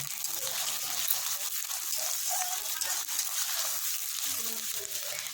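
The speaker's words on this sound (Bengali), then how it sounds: "এই পেঁয়াজটাকে সুন্দর করে হালকা একটু ভেজে নেব।" Steady, continuous sizzling hiss of onions frying in oil, even and moderately loud throughout, with faint clinks and low murmurs beneath.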